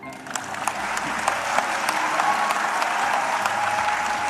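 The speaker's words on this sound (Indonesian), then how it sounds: "Kok tepuk tangannya tidak bersemangat?" Audience applause at an Indonesian political event, a steady moderate clapping from a crowd lasting throughout, somewhat subdued and even in intensity.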